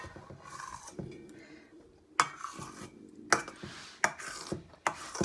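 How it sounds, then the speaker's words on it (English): A spoon scraping whipped cream down the sides of a mixing bowl while making a refrigerator dessert, with several distinct clinks and scrapes against the bowl spaced about a second apart, close and fairly quiet. "I'm going to take a spoon and I'm going to go around the edges and I'm going to push whatever's on the edges towards the middle."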